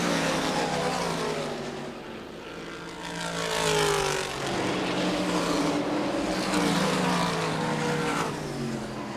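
Race car leaders roaring down the front straightaway at the Miller 300, a loud sustained engine drone that swells as the cars pass close by, with overlapping pitches sweeping through, no talking.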